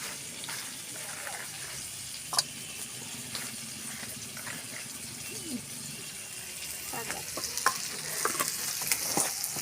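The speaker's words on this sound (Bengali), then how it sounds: "একটু ভাজা হোক।" Chopped pea greens fry and are stirred in a pan for a Bengali saag dish, a steady soft sizzle with scraping utensil knocks throughout.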